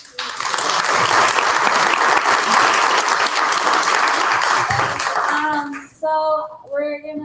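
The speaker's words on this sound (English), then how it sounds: "Can we give one round of applause for" Audience at a college meeting breaking into loud, sustained applause for several seconds, then fading out as a voice begins speaking at the end.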